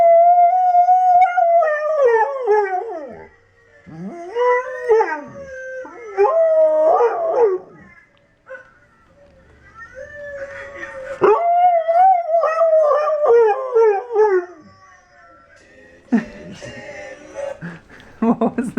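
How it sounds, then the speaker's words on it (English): Tamaskan dogs howl in a video playback, sending out long wavering howls that rise and fall in several separate bouts, mixed with a few yips and whines, clear and fairly loud. "Ken is showing Warden videos of Tamaskins howling"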